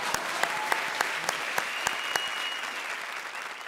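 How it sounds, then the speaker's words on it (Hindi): An audience applauds, with a crowd clapping steadily and a few louder, evenly spaced claps standing out in a regular rhythm. "ठोको ताली।"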